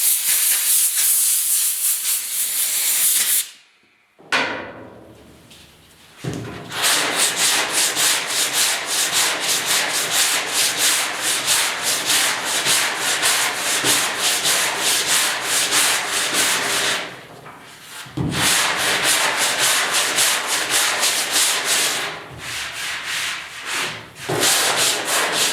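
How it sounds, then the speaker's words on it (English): The sides of a 1972 Ford 4x4 short box truck bed are sanded with a loud, continuous rough rubbing hiss that carries on for long stretches, broken by a few short pauses, close up. "There, sides are all sanded."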